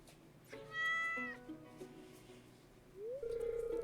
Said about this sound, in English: You see this cat here?